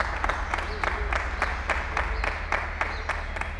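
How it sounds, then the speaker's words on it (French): A church congregation at the Temple de Gloire applauds steadily, with many overlapping claps forming a dense, continuous wash of sound that holds at an even level throughout. "Applaudissez s'il vous plaît."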